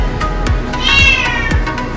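A cat meows loudly and insistently up close, a drawn-out wailing cry with a few shorter calls around it.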